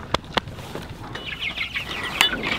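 Meat chickens on a farm cluck and squawk close by in short bursts, with a couple of sharp knocks early on and a brief flurry of higher calls near the end.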